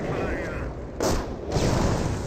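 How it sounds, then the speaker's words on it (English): Anti-tank gun shots in Company of Heroes, a few heavy booming reports over a dense battlefield wash, with a commentator talking throughout. "We're seeing some AT gun shots there"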